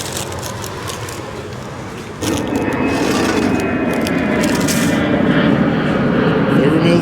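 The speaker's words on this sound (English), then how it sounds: "Lots of planes in this area." Airplanes pass overhead near a beach neighborhood, a broad roaring rush that jumps louder partway through and keeps building, with brief talk in the background.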